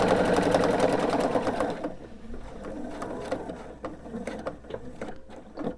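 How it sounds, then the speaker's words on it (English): A sewing machine stitches a quilt along a marked line, a loud, close run of fast stitching that stops after about two seconds, followed by softer mechanical clicks and handling noises. "We're going to sew to that line."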